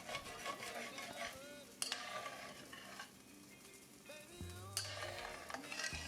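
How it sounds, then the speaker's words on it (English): Turkey breast pan drippings being scraped from a hot pan, a quiet sizzle with rhythmic utensil scraping and a couple of sharp metallic knocks, faint and close, with no talking. "And then scrape the rest of those pan drippings"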